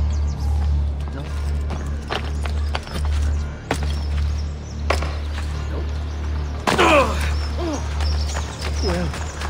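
Horse hooves clop in the Assassin's Creed: Brotherhood video game, scattered thuds spread across the clip with game ambience and someone talking over them.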